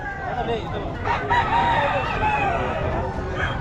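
Roosters crow at a busy chicken market in Bocaue, several overlapping calls rising over constant crowd chatter and background bustle, fairly close and steady throughout.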